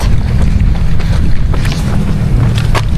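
Strong wind buffeting the microphone with a constant low rumble, steady and loud throughout, with faint higher noises drifting above it.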